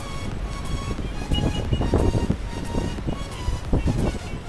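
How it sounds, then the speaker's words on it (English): Strong wind buffets the microphone outdoors on a hot, gusty day, a continuous loud rumbling roar with surging gusts and no clear pauses. "You can't close the door because it's so windy."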